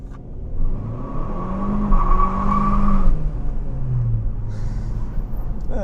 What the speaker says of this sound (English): Front wheel drive burnouts are stupid.